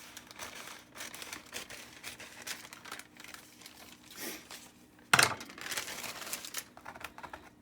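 Paper being trimmed for a gingerbread cloche stencil project: crisp crinkling and snipping sounds in irregular bursts, with one sharper louder rustle partway through, close and alone.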